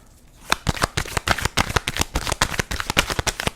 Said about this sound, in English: Pulling one more card from this deck